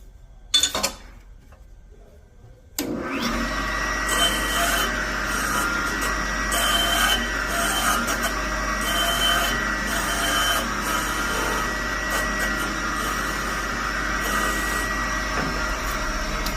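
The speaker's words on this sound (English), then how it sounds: "And now we're all done with that and chamfering the caps." Chamfering Dodge 230 connecting rod caps with a hand tool, a steady close rasping scrape that continues without a break after a short quiet start.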